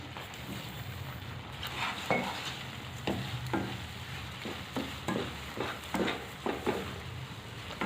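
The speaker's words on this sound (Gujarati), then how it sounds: "આપણે બરાબર હલાવી દઈશું જેથી તેમાં ખાંડ મિક્સ થઈ જાય" Spoon stirring sugar into semolina sheera cooked with milk, a soft scraping and faint sizzle with repeated short strokes against the pan, steady and close with no talking.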